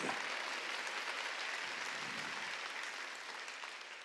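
Church congregation applauding during an Easter Sunday worship service, a dense, steady wash of clapping from many hands that carries on for about four seconds at a moderate distance and fades slightly toward the end.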